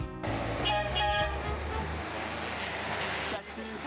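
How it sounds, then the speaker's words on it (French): A horn honks in traffic near a camper van: a few short toots at the start, then the low rumble of a running vehicle and road noise. "Ça, c'est du klaxon."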